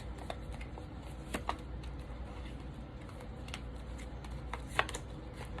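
A deck of tea leaf oracle cards is shuffled close by, with soft continuous riffling and scattered sharper taps and flicks, and no talking.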